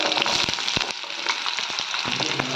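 Garlic and onion sauté in hot oil with fenugreek for a village-style fish curry, giving a dense, steady sizzle broken by clicks of stirring.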